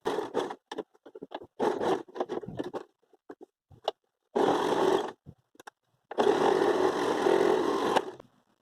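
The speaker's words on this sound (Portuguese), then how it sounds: "Vamos costurar." A sewing machine stitches bias binding at a fabric corner, running in short bursts with brief stops, then two longer continuous whirring runs, close and clear with no voice.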